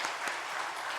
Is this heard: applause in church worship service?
yes